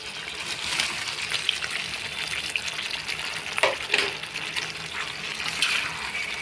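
Pieces of liver tossed into a pan of thickened tomato puree, a moderate frying sizzle with wet gushing and stirring, a few louder bursts as the pieces drop in, steady and close.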